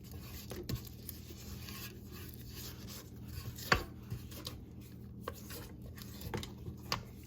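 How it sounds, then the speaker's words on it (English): A spatula scrapes around a mixing bowl of white chocolate cake batter, giving soft rubbing strokes with scattered sharper scrapes and taps against the bowl, close by and steady, with no one talking. "I'm gonna scrape down my bowl"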